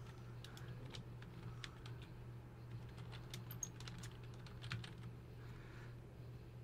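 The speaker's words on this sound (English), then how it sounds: "I'm going to type my first and last name" Quiet, steady typing on a computer keyboard while entering a name into a Microsoft Word document, with soft, rapid key clicks and no talking.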